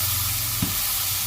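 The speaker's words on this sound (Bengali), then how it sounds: "পটল ভাজা হয়ে গেছে, এবার বটবটি আলু ভাজবো।" Potatoes frying in hot oil with nigella seeds, a steady, dense sizzle throughout with one brief bump partway through. No talk.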